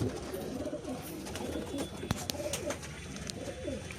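Domestic ringed pigeons in a home loft coo in low, rolling murmurs, several overlapping calls repeating through the clip at a moderate, steady level with faint background noise and a few small clicks.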